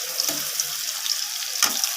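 Shrimp frying in oil in a pan, a steady close sizzling hiss with a few brief spattering pops and light stirring.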